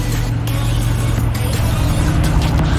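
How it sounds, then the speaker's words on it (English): Mercedes-AMG GT R V8 exhaust grumbles at idle, a steady deep low rumble held close and loud throughout, with no talk over it. "listen to that grumble through those exhausts and that secret little hidden one right there."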